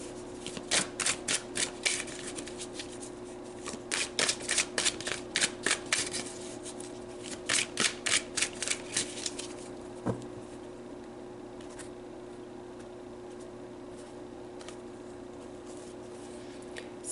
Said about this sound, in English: So let's pull some tarot on top of these.